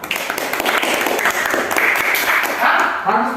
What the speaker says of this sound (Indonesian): Tepuk tangan dulu si Deborah